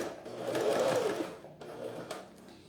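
A sewing machine stitches a strap on a synthetic toiletry bag, whirring steadily and close up for over a second, then slowing into shorter runs with small clicks.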